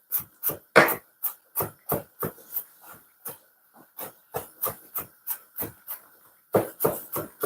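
A knife chopping red onion, spring onion and garlic on a board, crisp, close, rhythmic strokes with one short pause before the cutting resumes.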